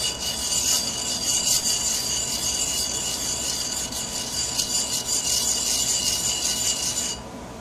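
The sole of a Harbor Freight hand plane scrapes back and forth on a coarse sharpening stone, a loud, continuous gritty rasp in close rhythmic strokes that stops abruptly near the end.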